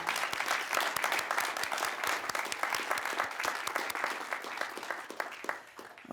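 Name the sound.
audience applause for candidates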